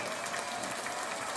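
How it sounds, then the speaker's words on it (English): A streamer clapping their hands, a brief dense burst of claps heard close and fairly quiet with no speech. "let me give you guys a clap."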